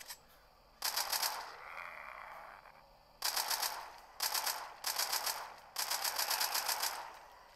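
Machine gun and rifle fire in The Walking Dead game comes as rapid automatic bursts of closely spaced shots, each lasting about a second or more and separated by short gaps, fairly loud and close.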